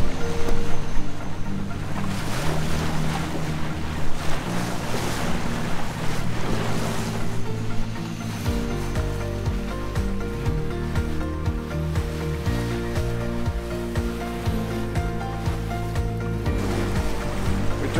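Racing sailboat built in 1991 for the America's Cup, under sail on Sydney Harbour at about seven knots in fifteen knots of wind, with steady water rush and wind noise, hull slap and surf continuous throughout.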